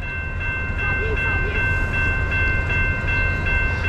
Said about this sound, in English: Train is coming. Oh, it slowed down.